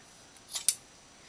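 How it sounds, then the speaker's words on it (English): Scissors cutting fabric scraps for Christmas crafts: a quick, close double snip, a soft slide then a sharp crisp cut, against a quiet room. "I'll cut that in half"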